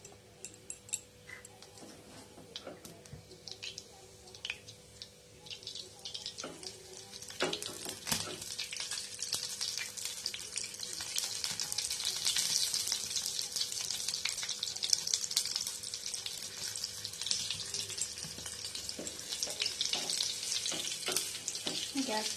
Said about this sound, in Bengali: জিরে দিলাম একটু